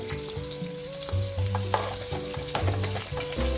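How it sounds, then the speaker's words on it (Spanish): Chopped onion and garlic sauté in a pan for a bolognese sauce, a steady close sizzle broken by stirring scrapes, with soft music playing underneath and no talking. "vamos a sofreír la cebolla y le vamos a agregar el ajo."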